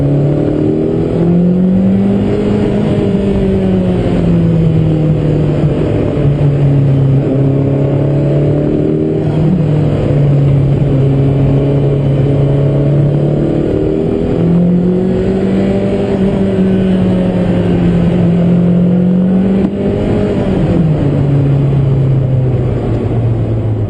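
A Ferrari F40 driving on a sunny Swiss Alpine road, its engine note droning loud and steady throughout, pitch rising and falling gently as it changes speed, with no talk over it.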